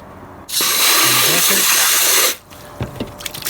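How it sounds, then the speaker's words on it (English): A loud rush of fresh water pouring steadily into a bucket for about two seconds while cleaning a Kawasaki KLX140 air filter, then stopping, followed by light clunks and handling noises. "Put some fresh water in there."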